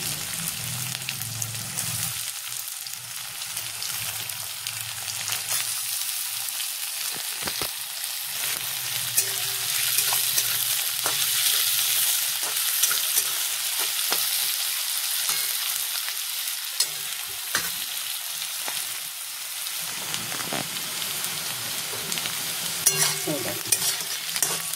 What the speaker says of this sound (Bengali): আলু আর কাঁচা লঙ্কাটা দিয়ে দিই একসাথে, দুটো ভাজা ভাজা হবে।